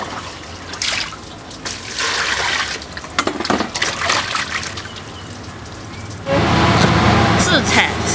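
Chili peppers being rinsed by hand in water in a home kitchen, before slicing for a stir-fry with cured pork: steady splashing and trickling, with faint voices in the background. The water turns louder and fuller near the end.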